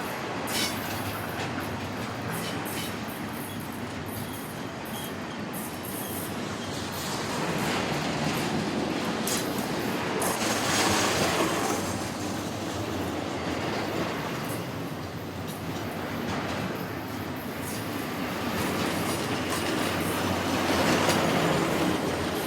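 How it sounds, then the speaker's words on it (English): A westbound Union Pacific double-stack freight led by locomotive 2002 rolls down San Mateo Canyon on the Yuma Subdivision, a steady, loud rumble of wagons and clattering wheels that swells and fades over the full length, with no voices. "UP Olympic Unit number 2002 led this westbound stack train down San Mateo Canyon along UP's Yuma Sub east of Ordway"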